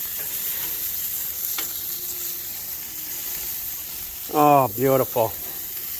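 Chorizo brats sizzle on a brat wave grill, a steady, close, hissing crackle running throughout, with a voice briefly speaking over it near the end.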